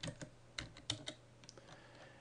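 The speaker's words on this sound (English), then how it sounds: "So here we're going to type in a new password." Keys clack on a computer keyboard as a new password is typed at a terminal, a quick irregular run of faint close taps with no talk.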